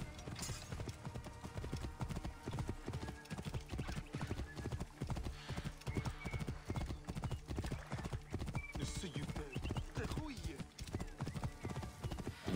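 Horse hooves clip-clop in a steady, even rhythm throughout the Assassin's Creed Origins video game scene, with a brief neigh near the start and a person talking over the hoofbeats.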